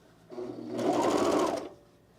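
A home sewing machine runs one short burst of stitching through jumpsuit fabric held under the presser foot, starting up, holding a fast steady whir for about a second and winding down, close and fairly quiet.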